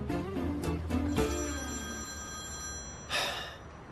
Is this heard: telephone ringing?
yes